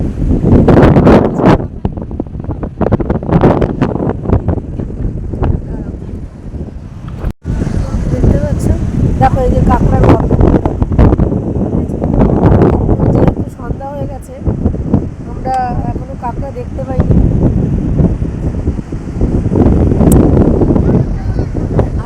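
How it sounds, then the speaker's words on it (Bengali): Steady evening sea wind at Digha beach rushing and buffeting the microphone throughout, with a person talking over it. "সমুদ্রের হাওয়া ভীষণ ভালো লাগছে"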